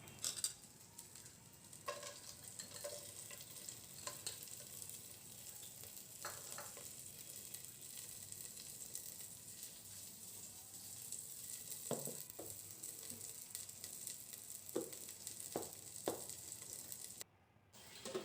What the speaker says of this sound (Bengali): এখন এটাকে সুন্দর করে ভাজতে হবে যতক্ষণ চাল থেকে একটা শনশন আওয়াজ না হয়